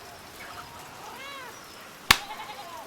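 A cat meows in the medieval-set video game Pentiment, a soft rising-falling call in the middle, followed by a sharp bright click or tap and a few smaller ticks over quiet background.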